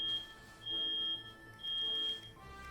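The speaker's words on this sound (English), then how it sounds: "Sorry guys about the beep. I think someone's cooking downstairs." Several long, thin electronic tones come from a smoke alarm going off somewhere in the building. They are steady but faint and quiet, with a constant low background behind them and no speech.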